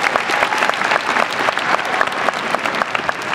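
A crowd gives sustained applause at a 2023 Heinz College graduation hooding and diploma ceremony, a thick, steady wash of many hands clapping at once with no talking on top.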